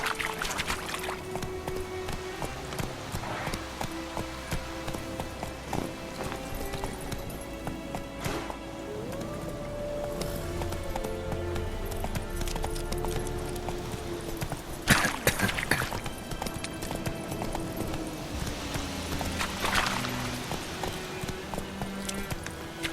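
Hoofbeats of Roach the horse galloping in The Witcher 3, a steady clip-clop running under game music and ambience, with a few louder thumps along the way.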